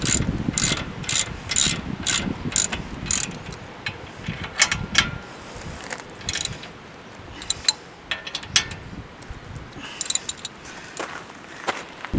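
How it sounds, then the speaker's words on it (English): Torque wrench clicking and ratcheting on the brake caliper bolts of a third-generation Dodge Ram, torqued to 130 foot-pounds; a steady run of sharp, close mechanical clicks and bursts in a regular rhythm, heard alone. "Once I get them snug, I'm going to put a torque wrench on it."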